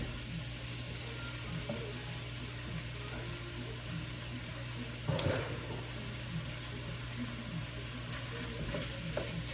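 Ground turkey fries in olive oil with a continuous, even sizzle. One louder scrape or clatter of stirring stands out midway against a faint background, and there is no talking.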